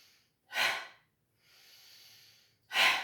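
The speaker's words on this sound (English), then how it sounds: "Inhale nose, exhale mouth" Yoga breathing: a sharp nasal inhale, a longer soft exhale through the mouth, then another quick nasal inhale, close and quiet with no talk.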